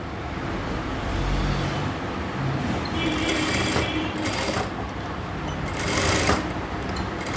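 Domestic sewing machine stitching a blouse armhole, with a steady whirring motor and rapid needle chatter that surges in several bursts of faster stitching over a background hum.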